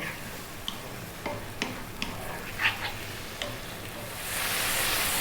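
Tomatoes cook down in a pan for shakshouka, a soft steady sizzle with a few sharp spoon taps against the pan, then a louder hiss swelling near the end, with no talking.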